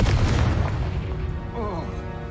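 A Confringo blasting spell goes off in Hogwarts Legacy with a heavy, loud boom at the start that decays into a rumbling tail, followed by a short voiced exclamation.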